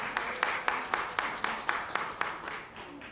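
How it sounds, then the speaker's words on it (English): An audience at a college students' award ceremony in Montego Bay claps in a steady, rhythmic run of applause, each clap evenly spaced and moderately loud throughout. "Let's give him a round of applause."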